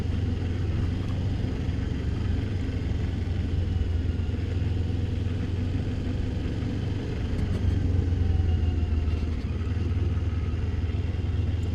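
A motorcycle engine runs steadily at idle close by for the whole stretch, a continuous low rumble with a faint ticking rattle that may come from the cam chain tensioner or the valves, with no talk over it.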